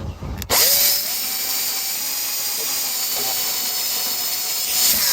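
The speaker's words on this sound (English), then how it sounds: "Now I'm going to drill a pilot hole using a really small drill bit first" Small pilot bit in a power drill boring through a part for a chrome front fender extension on a 2018+ Honda Goldwing, a steady high motor whine sustained for several seconds after a brief start-up burst, close and alone.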